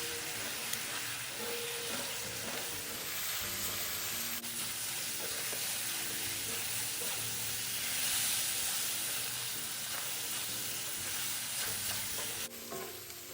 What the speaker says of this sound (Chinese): 接着快火快炒，一直炒至酱汁收干